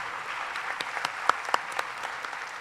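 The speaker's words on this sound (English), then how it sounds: "Thank you, and give them a great round of applause." A conference hall audience applauds panelists at a grand panel event, a steady wash of many hands clapping at moderate distance with a few sharper nearby claps standing out, no talk.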